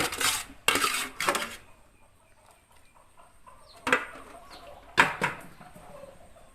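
Metal clanks as a lid is set onto a pot of boiling chicken soup, several sharp clattering hits with quiet bubbling between them.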